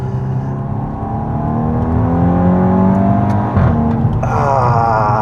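A 2014 VW Scirocco R accelerates hard, the engine note climbing steadily and loud from inside the car, followed by a quick gear change and a fresh rising pull.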